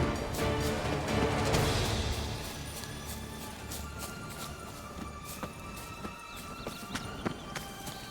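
Roach the horse gallops through The Witcher 3 game world, hoofbeats rolling steadily and loudest in the first couple of seconds, then continuing under scattered clicks and clatter with no talking.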